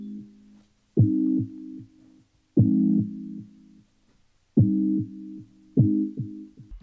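Dark synthesizer layer modulated by an LFO, playing four separate low, sustained tones that swell in with a sharp attack and fade, with short gaps between them.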